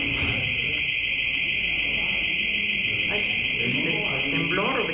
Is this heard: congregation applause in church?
no